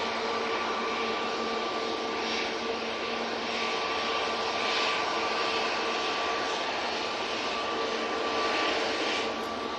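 An Aer Lingus airliner touches down at Manchester Airport, its jet roar a steady, fairly distant wash that holds evenly throughout with no voices.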